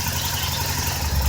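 An Aprilia RSV1000RR Factory V-twin motorcycle engine idles steadily and fairly close, a brief even mechanical throb with no voices.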